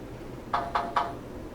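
Samsung Galaxy J3 Orbit knock notification tone, three quick evenly spaced knocks close up with a faint tonal ring, alone and brief.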